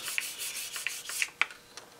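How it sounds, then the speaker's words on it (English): Dry sanding of a test patch of paint gives soft, repeated rubbing strokes with light scratchy peaks, close and fairly quiet, no voices. "Sanding out pretty well. It's making a nice dust"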